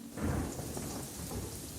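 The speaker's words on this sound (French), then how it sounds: "il se mit à pleuvoir" Heavy rain pours in a dense hiss while a deep roll of thunder rumbles underneath, loudest near the start then settling into steady downpour, in a stormy scene with no one speaking.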